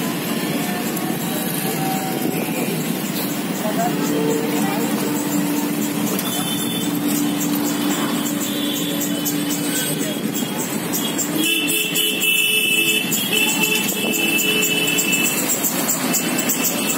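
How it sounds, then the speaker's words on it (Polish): A tuk-tuk auto rickshaw ride through busy Jaipur traffic in India, a continuous engine drone with repeated horn toots and honking from surrounding vehicles and faint voices throughout. "Jedziemy kolejnym tuk-tukiem"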